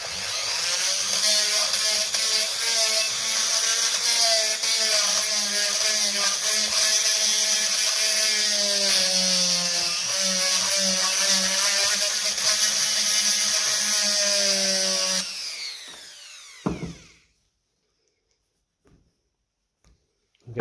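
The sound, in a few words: power tool cleaning tractor battery terminals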